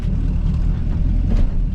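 Deep, steady rumble of an LS-swapped twin-turbo Mustang engine cruising off boost on a first drive, a loud low-pitched drone heard from inside the car.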